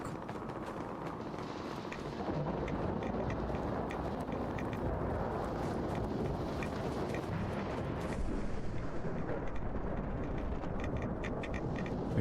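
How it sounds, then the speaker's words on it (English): Gunfire in the video game Fallout: London, heard as a faint, continuous rumbling wash of distant shots and booms that stays at a steady low level, with no voices. "I hear gunfire though."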